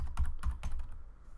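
Quick bursts of typing on a computer keyboard during a search in Dynamo software, a few close, light clicks in a short flurry with no talk.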